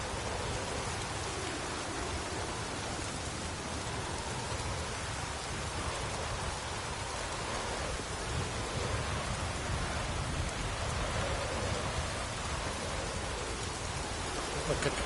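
Steady rain in the video game The Witcher 3, a dense unbroken hiss with a low rumbling undertone throughout, no voices.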